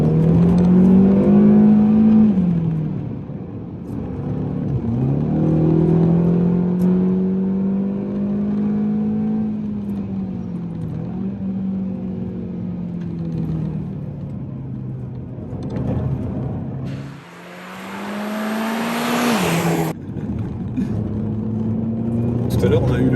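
An Audi A1 1.4 TFSI with 185 hp, heard from inside the car, revving hard toward about 7000 rpm through repeated gear changes. The loud engine note climbs and drops with each shift, and people talk over it.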